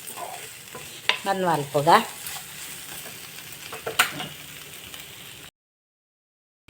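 Food being fried and stirred in a pan, a steady sizzle with a few louder scraping stirs, brief talk over it, then the sound cuts off near the end.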